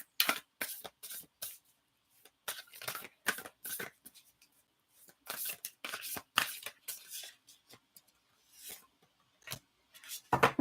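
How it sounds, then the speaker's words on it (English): A deck of oracle cards, shamanic medicine cards, is shuffled by hand in a quiet room, giving a run of crisp, irregular riffling and sliding bursts with short pauses between, close and fairly loud with no talking. "While I'm shuffling this next deck"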